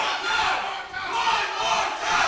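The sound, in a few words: wrestling crowd chanting for one more time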